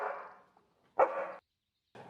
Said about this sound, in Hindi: ये कुत्ते की आवाज कहाँ से आ रही है?